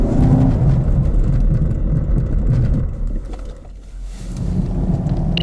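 A 2018 Chevrolet Camaro SS during a hard-braking test, heard as a loud rumbling roar of the car and road noise that dips as it slows, then swells briefly again near the end, with no talk.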